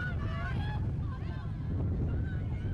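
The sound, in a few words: strong wind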